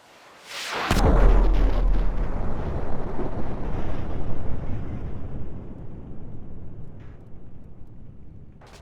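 A sudden massive nuclear blast in Grand Theft Auto V erupts, followed by a long, roaring rumble that slowly fades, with no voices.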